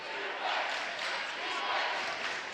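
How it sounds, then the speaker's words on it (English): A loud Westlake crowd cheers through a boys' basketball game against Pleasant Grove, a dense, continuous roar of voices that swells and holds in a large gym. "This Westlake crowd just as loud as the PG crowd"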